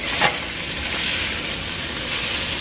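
Garlic sizzles steadily in a pot over medium heat as it is stirred, a constant close frying hiss with a light scrape near the start.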